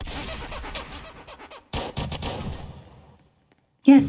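Burst of gunfire in a Roblox shooter game, rapid crackling shots clustered in the first two seconds, then a second loud volley, fading to quiet before a sharp final blast; no talking.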